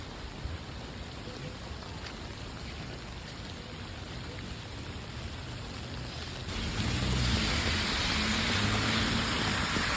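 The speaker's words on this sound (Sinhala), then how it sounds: "ඔන්න ඉතින් ඩුබායි වලට මාස ගානකට පස්සේ වැස්සා තාම වහිනවා." Steady rain falling in Dubai, a continuous close wash of drops that grows louder and denser partway through, with no voices.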